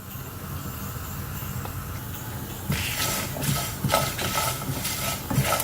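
Tamarind and peeled garlic are dry-roasted together in a pan. A quiet hiss jumps into louder sizzling and crackling partway through, with occasional stirring clinks against the pan.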